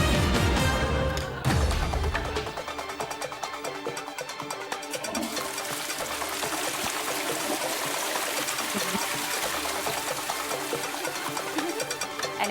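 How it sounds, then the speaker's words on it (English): A toilet is flushed with a sharp start, then water rushes and trickles steadily for about ten seconds as the bowl refills. The sound is close and moderately loud, with no speech. "Did you just use the toilet? Yeah. You didn't flush it."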